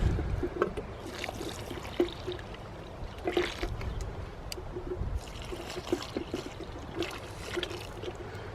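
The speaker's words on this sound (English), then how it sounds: "fill the hole with water" Water poured from a can or hose into a planting hole in garden soil for leeks, a steady trickling and splashing stream close by with small irregular gurgles, no talking.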